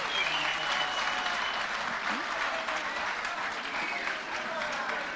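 A ceremony audience applauds a minister of justice at a performance contracts signing and awards ceremony, with steady dense clapping throughout and voices faintly beneath it.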